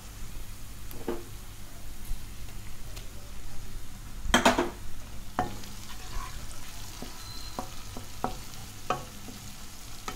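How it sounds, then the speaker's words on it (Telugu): Tomatoes fry in a pan for tomato rice, giving a soft sizzle, with scattered scrapes and clinks as a utensil stirs against the pan and one louder clatter near the middle. "ఇప్పుడు ఇందులో మనం టమాటాలు యాడ్ చేసుకుందాం"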